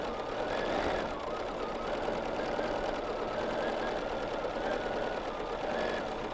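A BERNINA sewing machine stitching in free-motion quilting on placemats, giving a steady, fast mechanical whirring and needle chatter that runs continuously at moderate volume, slightly rising and falling, with no talking.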